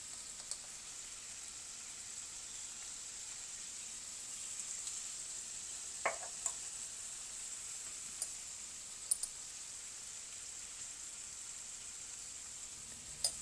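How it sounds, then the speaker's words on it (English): A spiced meat and rice mixture seasoned with salt, black pepper, turmeric and cumin sizzles softly and steadily in a pan, with a few faint scrapes and taps as it is stirred. "Give everything a good stir so all those spices mix in perfectly."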